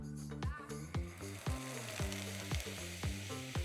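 Heavy cream poured into a pan of sautéed, lightly browned garlic, giving a steady close sizzle and frying hiss with repeated stirring pulses.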